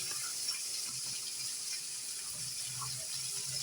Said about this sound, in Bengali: তো আমি এই বাটিটা ধুয়ে একটু জল দিয়ে দিলাম মশলাটা কষানোর জন্য।